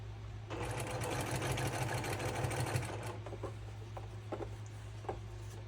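A sewing machine runs in a fast, steady burst of stitching through a double wedding ring quilt, then slows to a few scattered stitches and clicks near the end.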